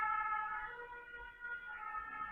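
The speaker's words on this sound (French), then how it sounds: "En ce moment, il y a les pompiers partout chez nous." Fire engine sirens wail steadily at a moderate distance in a residential neighbourhood, a sustained harmonic tone drifting slightly in pitch with faint road rumble underneath.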